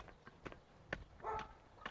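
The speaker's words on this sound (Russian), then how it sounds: "Тут собаки мои взбунтовались." Faint, scattered barks from dogs at some distance, a few short sharp yaps with a longer whining bark in the middle, over quiet outdoor background.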